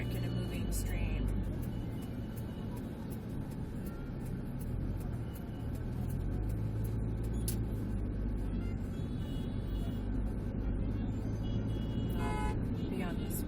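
Dense street traffic on Ganesh Kend Road streams past up close: many bikes, cars and buses rumbling steadily, with scattered horn toots and a hiss of air brakes, and a voice talking over the din.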